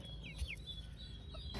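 Chickens cluck briefly, Frizzle, Silky and Buff Orpington crosses, a few short calls close by over quiet background noise.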